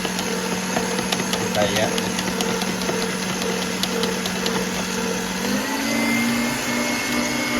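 Six eggs are whisked for a large mint and chocolate marble cake, a steady motorized whine running throughout and dropping in pitch partway, with a person speaking briefly over it.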